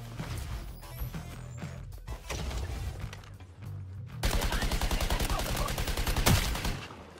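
Sniper gunfire in the video game Suicide Squad Kill the Justice League: scattered shots and impacts at first, then a loud rapid burst of repeated firing, with game sounds throughout.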